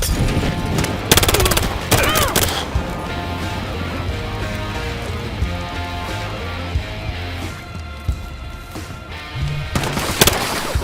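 Weapons fire in the PC video game Battlefield Hardline comes as loud, rapid bursts of automatic gunfire at the start and again near the end. Between them, quieter game sounds and scattered single shots continue.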